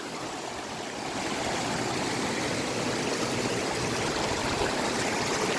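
A waterfall rushes steadily as a constant, even roar, fairly faint and unbroken, with no voices.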